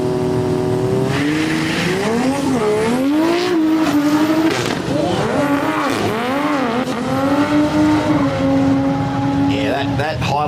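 An Audi race car at a street drag event, engine revving and wailing through rising and falling pitch sweeps with tire squeal, loud and close, under a commentator talking.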